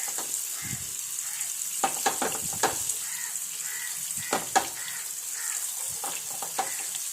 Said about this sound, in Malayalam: ചിക്കൻ പൊരിക്കണ പോലെ തന്നെ ഇതും പൊരിച്ചെടുക്കുക